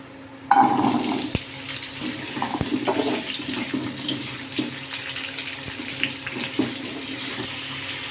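Cut potatoes go into hot oil in a kadai, and a sudden burst of loud, steady sizzling hiss starts just after the start, then settles to a continuous crackle with a few sharper pops.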